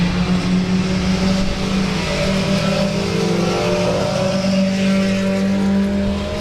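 The No. 2 race car of Vince Head roars at South Texas Speedway, a loud, steady engine drone with a strong buzzing tone that holds near-constant for the whole stretch, other engines blending behind it.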